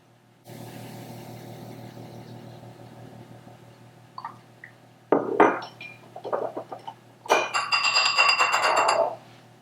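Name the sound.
teaspoon swirling vanilla in liquid ingredients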